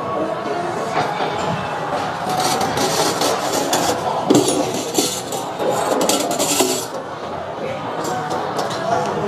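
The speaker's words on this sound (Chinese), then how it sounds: "生蚝已经下锅烤了哈" Raw oysters in their shells being laid row by row onto a grill pan at a seafood buffet, giving a steady scraping and clattering of shells against metal, with busy background chatter from nearby diners.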